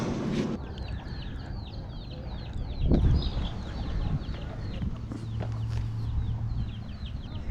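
Chickens cluck repeatedly as they cross a road outside a thrift store, a steady run of short clucks over outdoor ambience.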